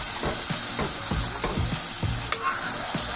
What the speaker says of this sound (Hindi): उसको हम उसे भूनेंगे।